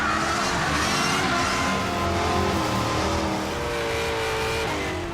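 A performance car engine fitted with a Flowmaster muffler revs loudly and continuously with rising and falling pitch, close by and alone without talk.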